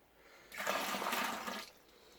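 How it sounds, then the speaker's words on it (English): Hot water sloshes and swirls for about a second inside a Coopers home-brew stout can, a close, rushing wash of water that rises and then fades out. "And swirl the can around."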